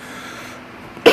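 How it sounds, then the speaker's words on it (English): A single sharp cough bursts out near the end after a short stretch of quiet room tone, close and loud. "I'm going to be fighting this cough."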